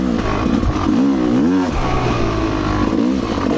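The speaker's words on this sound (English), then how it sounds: "Still got our bike. We're going to warm it up a little." Rieju MR Pro dirt bike engine warming up outdoors, idling with a loud, close, rough burble and a few quick throttle blips that rise and fall in pitch.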